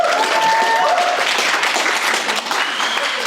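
An audience at a school debate event cheers and applauds continuously, dense clapping with a few whoops and whistles throughout, loud and close.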